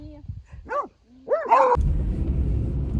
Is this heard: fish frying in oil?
no